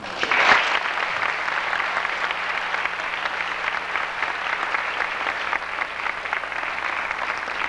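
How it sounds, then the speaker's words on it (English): An audience applauds mothers at a parent appreciation event, a steady dense patter of many hands clapping together. The clapping holds evenly throughout at moderate loudness, with a brief louder burst near the start. "Please join me in a round of applause for our mothers."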